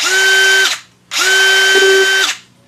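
A DeWalt drywall screw gun motor whirs loudly in two bursts of about a second each, with a short pause between, no talking.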